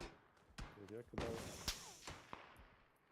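Several sharp gunshot cracks ring out in PUBG, scattered irregularly, with voices talking over them in the background.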